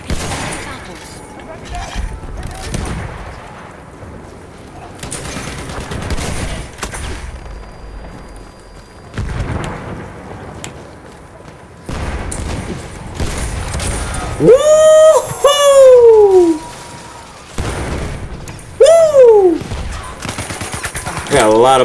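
Gunfire and heavy shelling from a dreadnought battleship in Battlefield 1, with a steady battlefield clatter of shots and booms throughout, and loud whistling incoming shells sweeping past twice near the end.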